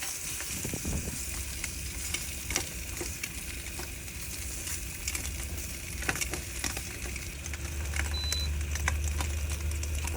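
Meat frying and crisping in a pan at a truck campsite, a continuous close sizzle and crackle with scattered pops and scraping clicks, swelling slightly louder toward the end, no talking.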